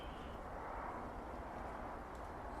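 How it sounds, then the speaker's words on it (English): A steady, broad rumble like a distant airplane passing overhead, constant and fairly faint, with no voices. "I can hear that airplane above now"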